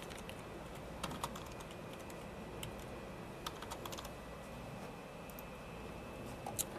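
A file name is typed on a computer keyboard in quiet bursts of soft key clicks over a steady room hum, with clusters around one, three and a half and six and a half seconds.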